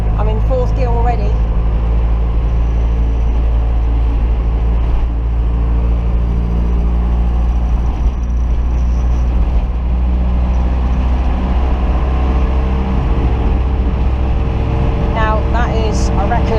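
A Mk3 Ford Cortina with a wheel bearing fault cruising in fourth gear, a steady, loud, droning engine and road rumble from inside the car, with someone talking over it.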